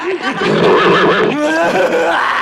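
A horse whinnies loudly and close by, a continuous wavering neigh over the full moment, mixed with voice-like sounds in a dramatic fantasy scene.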